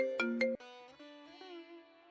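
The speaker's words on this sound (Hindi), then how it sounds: "एक मिनट फोन आ गया" A phone ringtone chimes for an incoming call: two short bright tones, then a sustained melodic ring that fades gradually, heard alone in a quiet room.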